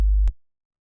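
A short low electronic tone sounds once over an unanswered phone call, a single steady beep lasting under a third of a second and cutting off abruptly into silence.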